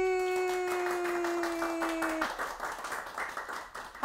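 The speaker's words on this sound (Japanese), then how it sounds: "拍手が多いやっぱりね" Scattered clapping from a small group of studio staff picks up as a sustained tone cuts off, continuing unevenly for a few seconds.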